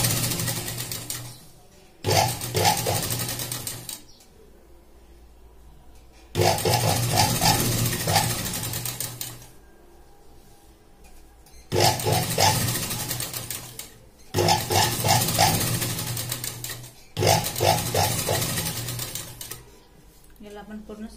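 Sewing machine stitching the neckline of a fancy party wear gown: five or six loud bursts of fast mechanical whirring and clatter, each a couple of seconds long, separated by short pauses.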